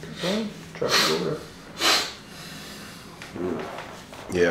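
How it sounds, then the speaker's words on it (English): Several forceful nasal blows in short bursts from a boxer with a broken nose and deviated septum, close up, with brief pauses between them and a bit of quiet talk mixed in. "Blow your nose out"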